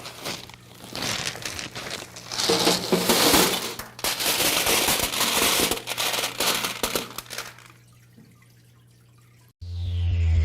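River rocks are poured into the rock tray of a floor fountain, a sustained rattling, clattering cascade of stones lasting several seconds before tapering off, followed by a brief separate noise at the end.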